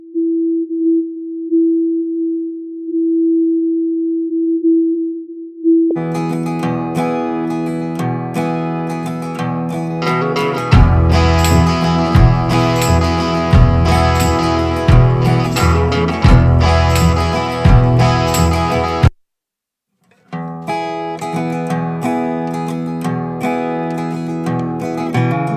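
Acoustic guitar filtered down to a narrow EQ band around 330 Hz for mixing, heard as a steady, hum-like ringing tone for about six seconds, then giving way to a full, loud band mix with drums that briefly cuts out near the end.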